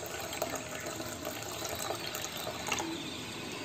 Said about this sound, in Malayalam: അപ്പോൾ നമുക്ക് പാലോട് ചേർത്ത് കൊടുത്തേക്കാം.